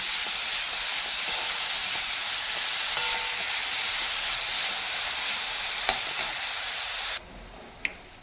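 Onion sautéing in oil in a pan, a steady loud hiss and sizzle close up with faint stirring, then cutting off abruptly near the end before a single small click.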